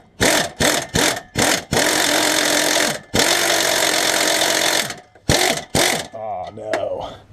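A power ratchet or impact tool spinning a nut on a Toyota Highlander exhaust: loud, close bursts of buzzing mechanical whir, some short and some sustained for over a second, with a voice briefly speaking at the end.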